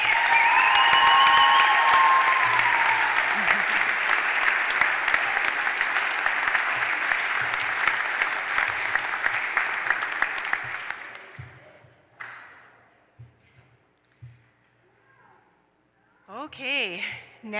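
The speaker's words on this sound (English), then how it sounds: "Please give one more round of applause to our 2021 White Coat recipients." Sustained audience applause at a 2021 White Coat Ceremony for a master's speech-language pathology cohort, loud and dense for about eleven seconds before tapering off, followed by brief quieter sounds and a short voice near the end.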